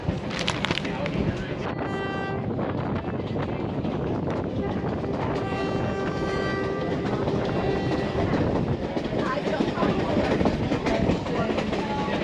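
A Grand Canyon passenger train rolls steadily along the rails with a constant loud rumble, rhythmic clickety-clack and metallic squeals, heard from inside a carriage.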